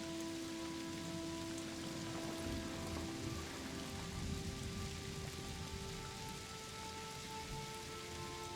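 Steady rain pours down in a cozy life-simulation game, a dense continuous patter with tonal game music lines running underneath, no talking.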